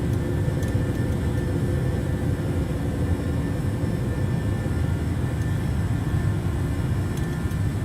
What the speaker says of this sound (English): Positive rate of climb. Checked, gears up. LNAV. Fast departure out of Brisbane today.